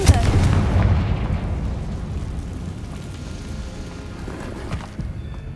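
A Confringo blasting spell explosion in the Hogwarts Legacy video game, one heavy booming blast at the start that rolls and rumbles away over several seconds, loud and close.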